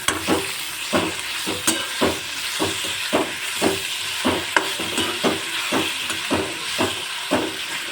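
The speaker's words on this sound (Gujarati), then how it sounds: "હવે મેં એક કપ જેટલા મેં આ ટમેટાં લઈ લીધા છે હવે એને પણ હું ગોલ્ડન બ્રાઉન સુધી હલાવી લઈશ" Onions and tomatoes fry in a pan and are stirred again and again. A steady close sizzle and hiss runs under regular scraping strokes of the spoon, about two per second. No one speaks.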